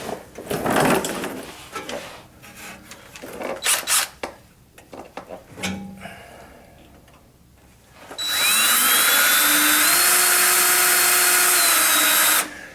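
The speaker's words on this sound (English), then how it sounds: "And start drilling." Power drill boring through steel while fitting a sway bar on a 1962 Chevy Biscayne: after scattered handling clatter, a loud sustained whine with rising pitch runs steadily for about four seconds to the end.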